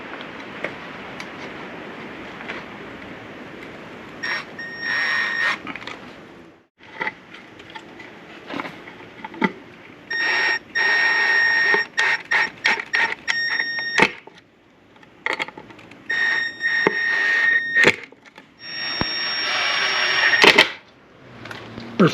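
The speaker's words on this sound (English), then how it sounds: "Now we're going to screw it in." Hand-driven screw going into a part on a rat rod build in a garage, with bursts of ratcheting clicks and grinding squeaks separated by pauses, close and fairly loud over low background noise.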